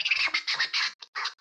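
A voice mimics a DJ turntable scratch with choppy, rhythmic sucking and hissing bursts, several short strokes in quick succession, close and clear.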